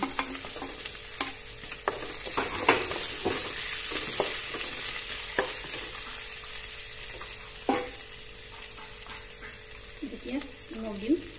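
Potatoes and browned onions cooking in a pan for an okra and potato dish, sizzling steadily with repeated scraping stir strokes, close and moderately loud.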